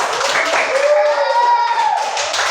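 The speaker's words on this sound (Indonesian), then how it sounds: "Sekali lagi mari kita berikan tepuk tangan untuk kelompok 1" A classroom group applauds group one: steady clapping from many hands goes on throughout, with a voice carrying over it.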